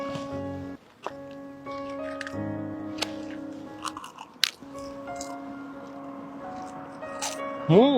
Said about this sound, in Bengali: এরকম ফুচকা অনেকদিন পরে খাচ্ছি।